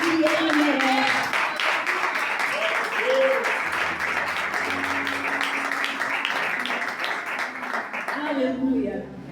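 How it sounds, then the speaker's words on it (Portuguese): Congregation members in church clap loudly for the Lord, a full, steady burst of applause with voices and musical tones mixed underneath, tapering slightly at the close. "As palmas mais fortes que Ele merece."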